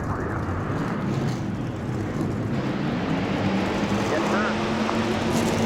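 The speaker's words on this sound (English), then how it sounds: "42 engines come to life here" Forty-two stock car engines rumble together at the start of a NASCAR Racing 2003 race at Iowa, a dense, steady roar filling the whole clip.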